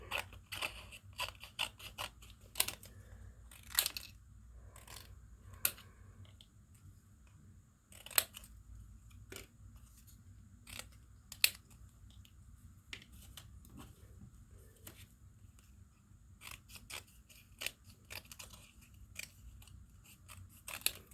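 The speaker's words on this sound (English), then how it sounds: "I dig numbers, so I'll cut the numbers out." Scissors cutting numbers out of junk mail paper, with sharp crisp snips in irregular clusters separated by quiet pauses, close and clear with no voices.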